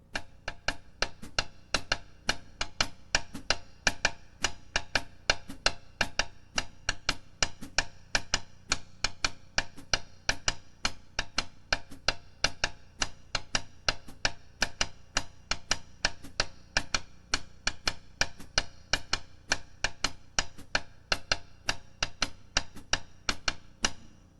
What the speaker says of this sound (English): I'll play quarter notes with the hi-hat, and then I'll play the pattern on the rim of my snare